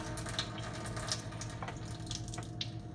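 Tap water running from a kitchen faucet through a Pelican 2-stage countertop drinking filter during a flush, a steady close rushing stream with faint splashes into the sink, no voices.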